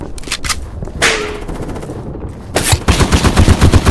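Rapid bursts of automatic gunfire from the video game Polyfield 2, loud and close, with sharp repeated shots early on and a dense, rhythmic volley in the final second and a half, no talk.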